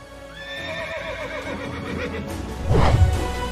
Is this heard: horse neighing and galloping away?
yes